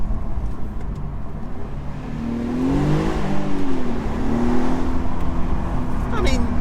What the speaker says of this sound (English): Alright, let's have a little flavour of the sound.